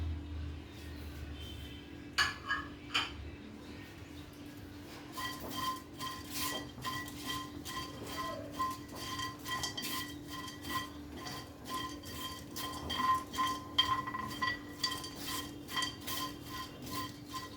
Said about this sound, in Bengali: এটা আমি ফ্রাই করে নেব, শুকনো কড়াইতে ফ্রাই করে নেবো এগুলো।